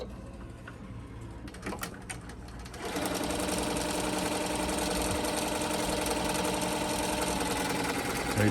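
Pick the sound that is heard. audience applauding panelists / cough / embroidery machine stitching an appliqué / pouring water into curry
embroidery machine stitching an appliqué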